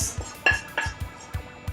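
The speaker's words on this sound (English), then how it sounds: "We'll mix them in with our bacon here" Hot cooked onion pieces, straight off the stove, being mixed into bacon in a bowl with a utensil, giving a series of close scraping clinks and light taps in irregular rhythm.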